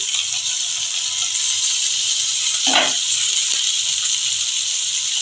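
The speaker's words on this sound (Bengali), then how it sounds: "এখন আমি টমেটো কুচানো দিয়ে দিচ্ছি" Chopped tomatoes go into lightly browned onions and green chillies in a hot pan, a loud steady sizzling hiss with one brief louder burst partway through, close by and without talking.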